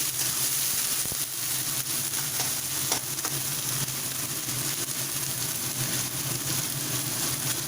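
Onion fries in a pan with a steady, close sizzle, broken by a few clinks and scrapes of stirring, and no voices over it.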